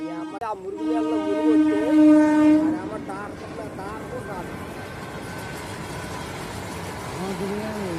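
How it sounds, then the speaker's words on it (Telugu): A train horn blares loudly for a few seconds, then a train rumbles past with steady rolling noise and faint voices in the background. "ఇంకో ట్రైన్ వస్తుంది"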